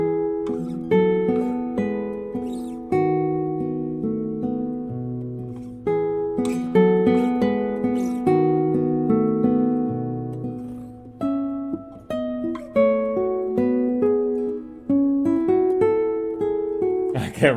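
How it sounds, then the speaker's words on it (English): Classical guitar piece played solo, steady plucked melody over bass notes with ringing sustained tones, close and fairly loud throughout, no talking. "this is like a classical guitar piece that everybody plays"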